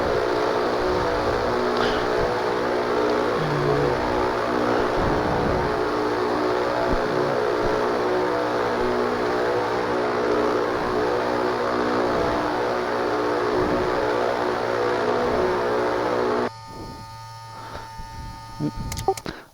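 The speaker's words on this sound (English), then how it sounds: "The new version of X-Pilot picks up ambient engine sounds from other aircraft." A small general aviation aircraft engine drones in the X-Plane flight simulator, a steady loud hum holding for most of the time before abruptly dropping to a quieter, thinner tone.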